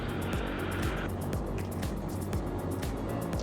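A light aircraft engine running at power with the brakes set, a steady loud propeller drone with a rhythmic throb and continuous wind-like noise throughout.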